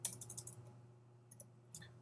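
A few quiet clicks from a computer keyboard as cell formulas are entered in an Excel spreadsheet, a short burst of faint keystrokes followed by a pause and a couple more taps over a low steady hum.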